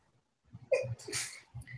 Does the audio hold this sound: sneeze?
yes